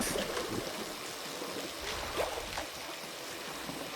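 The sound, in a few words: water running from a faucet in the video game I Am Fish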